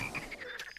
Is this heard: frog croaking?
yes